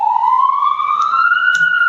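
A police car or ambulance siren wails in a single slow upward sweep, steady and fairly loud, with a faint background knock.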